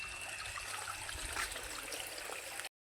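Water from a running motor pump gushes steadily as sandals are washed, a close, continuous splashing stream that stops abruptly.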